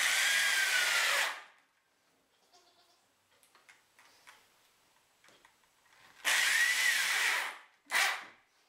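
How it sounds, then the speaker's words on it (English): A power drill drives in a barrel bolt on a newly built barn gate. There is one long loud whir, a quiet stretch of small clicks and handling noises, then a second long whir and a short final burst. "Okay, time to screw in the barrel bolt."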